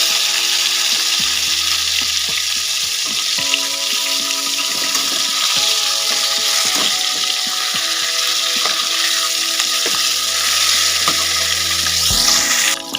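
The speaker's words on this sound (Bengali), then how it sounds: "আমাদের মাছ ভাজা কমপ্লিট হয়ে গেছে" Rohu fish pieces sizzle steadily in hot oil during mustard-style rui cooking, a loud continuous frying crackle with occasional scrapes and stirring clinks, no voices.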